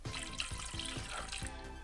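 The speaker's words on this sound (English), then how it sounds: "we are putting in equal parts of vinegar and water" Vinegar and water pouring into a pot, a continuous splashing liquid stream with small irregular gurgles, close and moderately loud.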